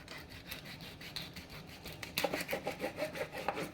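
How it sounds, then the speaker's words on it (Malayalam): A knife or saw cuts through a frozen tuna (chura) fish with faint, scraping back-and-forth strokes. The strokes grow more distinct and rhythmic partway through. "ചൂര മീനാണ് അത് നമുക്ക് കട്ട് ചെയ്യാം"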